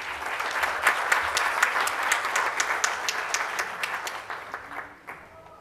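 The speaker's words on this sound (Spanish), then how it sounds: "Un fuerte aplauso," An audience at the CADE 2017 civil society and democracy conference applauds to welcome a speaker, dense clapping that holds steady for several seconds before thinning out and fading.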